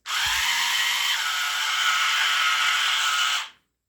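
A handheld electric power scrubber with two speeds runs at a steady high-pitched whir, close and loud, holding an even tone for about three and a half seconds before cutting off abruptly.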